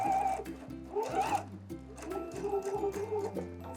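Home sewing machine running a row of straight stitches on a summer wrap dress without back stitching, short rhythmic bursts of needle clatter that pause and restart, fairly quiet and close.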